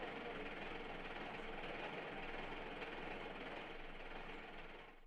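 A train on the Nairobi to Nanyuki railway in Kenya rumbles along in a steady, dense, broadband roar that stays loud and even throughout, easing slightly at the end, with no clear talking.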